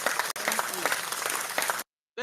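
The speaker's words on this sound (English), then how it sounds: "Clap for Afam too" Audience clapping at a Biafran gathering, a dense burst of applause lasting under two seconds, close and loud, with voices mixed in before it cuts off abruptly.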